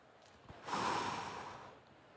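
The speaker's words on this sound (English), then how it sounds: "Take a few deep breaths." A slow, deep breath taken with eyes closed in a quiet room, rising to a soft, airy swell that lasts about a second and then fades, heard alone and fairly faint.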